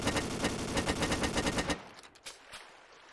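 Submachine gun fire in the video game Ace of Spades: a rapid, loud, evenly spaced burst of shots lasting under two seconds, then stopping abruptly, followed by a few faint softer clicks and thuds.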